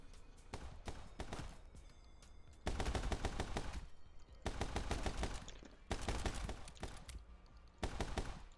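Bursts of rapid gunfire from the side-scrolling shooter game My Friend Pedro, loud dense volleys in several separate bursts with brief gaps, heavier sustained fire in the latter half, no talk over it.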